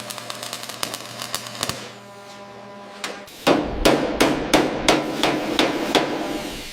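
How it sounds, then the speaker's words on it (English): A hammer reshaping metal panels during a Porsche 911 GT3 restoration, ringing out in sharp, loud strikes: a few scattered blows at first, then a steady rhythmic run of closely spaced hits with no talk. "Listen to the rhythm of the hammer."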